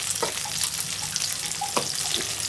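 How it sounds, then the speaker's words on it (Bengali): Potatoes coated in turmeric and salt fry in hot oil, giving a steady close hiss with faint pops throughout. "আলুগুলো একটু এই যে মাছের হলুদ লবণের সাথে মেখে ভেজে নিব মাছের মতন করে"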